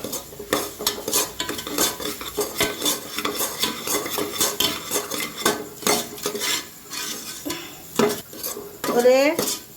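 Coconut burfi mixture with roasted semolina, cashews and cardamom stirred in a pan, a metal spoon scraping and clinking against the pan in close, busy strokes over a faint sizzle.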